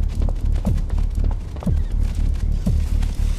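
A horse in the video game Zoochosis gives repeated close, loud snorting whinnies over a heavy low rumble, the calls rising roughly once a second, with no speech.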